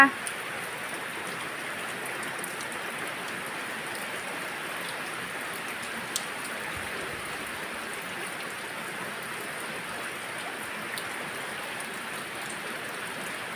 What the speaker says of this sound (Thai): ฝนตกหนักก็ทำงานในสวนไม่ได้